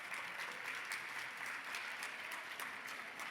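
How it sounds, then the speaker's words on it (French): A dense, steady round of audience applause fills an awards gala as nominees are announced, many hands clapping together at an even loudness with no voices on top. "Petite main d'applaudissement."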